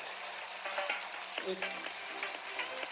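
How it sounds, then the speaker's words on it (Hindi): Noodles deep-frying in hot oil for Chinese bhel, a steady crackling sizzle with small bursts of bubbling and occasional stirring clinks, close and continuous throughout. "आराम से इसको जो है इस तरह फ्राई कर लें नूडल्स को"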